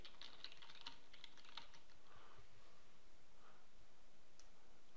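Soft, quick keystrokes on a computer keyboard as a gallery title is entered, close and quiet, clustered in short bursts against a faint background hiss.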